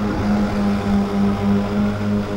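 A small lawnmower engine drones steadily and loudly close by, its even hum pulsing gently in a slow, regular wobble throughout, with no talking.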